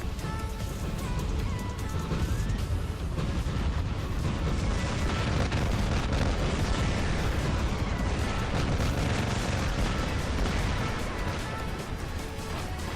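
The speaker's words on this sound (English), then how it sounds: "I kept getting bombarded by Noricum fire, and before I knew it, I had been taken out" Relentless missile artillery barrage from Noricum launchers in the War Robots video game, a dense continuous roar of overlapping blasts and rumbling impacts that stays loud and unbroken throughout, with no pause between hits.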